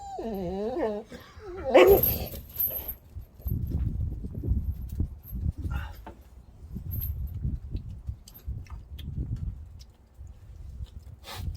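A dog whimpers and yips near a charcoal grill cooking sand lance and sandfish outdoors by a doghouse. High whines come early, then light scuffling and soft background movement, with people talking faintly nearby.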